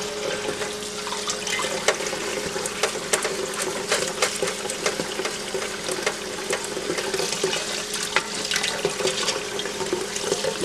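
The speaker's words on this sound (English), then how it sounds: "Then you just put water and you just start pushing it through the sieve" Water runs steadily from a tap into a sieve and bowl while tomatoes are pushed through, a continuous splashing hiss with small clicks and clatters, fairly quiet and without talk.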